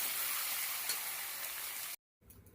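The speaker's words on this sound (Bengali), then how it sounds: "উচ্ছে আলু ভাজা করবো চিংড়ি মাছের" Bitter gourd and potato with shrimp fry in hot oil, a bright, steady sizzle up close that cuts off abruptly, followed by faint quieter sounds.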